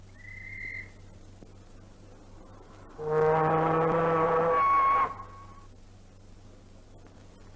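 A ship's whistle signals to escorting tugs as a liner is warped through a dock entrance lock on the Mersey in 1955, giving one loud, sustained harmonic blast of about two seconds over steady low engine hum.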